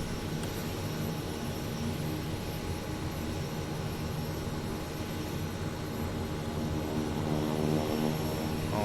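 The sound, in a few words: Kodiak 100 turboprop engine running after start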